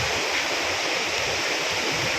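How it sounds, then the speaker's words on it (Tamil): Water rushes fast and steady, like a rain-swollen overflowing lake, a broad continuous roar heard up close on a monsoon ride, with no voices. "ஏரி நிறைஞ்சி இப்படி தான் இதே வேகத்தோடு தான் தண்ணி வரும்."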